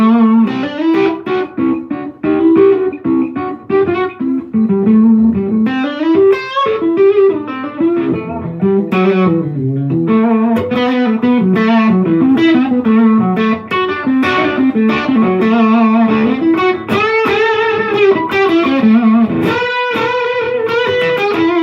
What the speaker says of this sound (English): Different tones there just by varying the tone control to 3 different positions